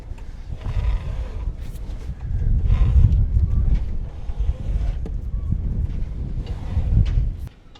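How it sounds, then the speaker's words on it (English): Strong wind of around 30 knots buffets a sailing yacht being readied for launch, a loud, gusting low roar that swells and eases with no letup. "It's the wind again."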